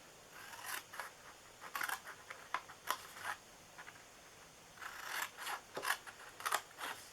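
Scissors make faint, quiet snips through cardstock while an Easter treat box is cut out, in irregular short bursts of close cutting with no talking.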